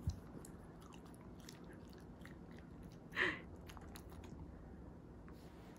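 A dog chews sweet potato up close, giving quiet, soft chewing and a single sharper crunchy bite partway through against a low, hushed room background.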